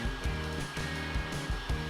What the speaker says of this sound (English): Heat overly frozen ice cream with a hairdryer.